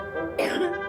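A patient gives one harsh cough with a throat-clearing quality, close and fairly loud, heard alone without speech.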